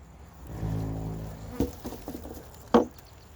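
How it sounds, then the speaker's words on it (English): Honeybees buzz in an opened hive during a November feeding with bee candy. A close, droning hum swells and wavers, broken by a few sharp knocks from the hive being handled. "So, plenty of bees in there."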